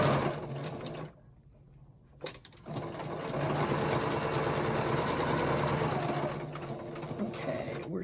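A sewing machine stitches a scrappy binding edge onto a quilted organization board, whirring steadily and fairly faintly after a short pause near the start, with brief light knocks.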